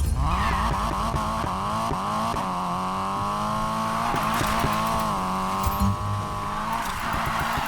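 Race car engines roar and rev continuously in Need For Speed Payback, with rising and falling pitch sweeps through gear changes and occasional tire squeal, loud and close throughout with no talk.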